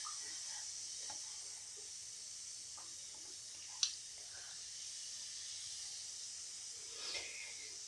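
A bath bomb fizzing in a tub of bath water, a soft, steady hiss that stays faint throughout, with a couple of small splashes or clicks and no talk.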